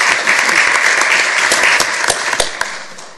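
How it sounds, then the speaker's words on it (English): Audience at a school board meeting applauding students honored in an arts recognition program, a steady, full burst of clapping with scattered sharper claps, holding then tapering slightly. "So give them a round of applause."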